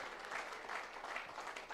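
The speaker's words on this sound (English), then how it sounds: "Can we give ourselves a huge round of applause?" Steady audience applause fills a business networking chapter gathering in Nelamangala, Bangalore, a dense wash of many hands clapping at moderate level without a break.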